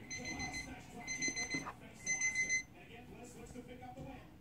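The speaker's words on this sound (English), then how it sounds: "The alarm went off." Alarm clock ringing in repeated short electronic beeping bursts, fairly faint against background noise, within a toy figure skit.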